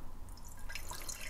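Water trickles and drips into a Smeg mini kettle as it is poured, a faint, close splashing that builds in the second half of the short moment.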